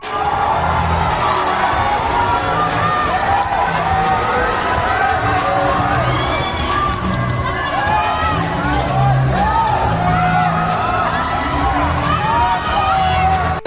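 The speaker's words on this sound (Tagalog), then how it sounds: "Hiyawan ang mga fans noong pumasok ang mga Gilas players" Basketball fans scream and cheer nonstop as Gilas Pilipinas players enter an open practice in Hong Kong. The shrill, dense crowd noise stays loud throughout, with high-pitched whoops rising above the din.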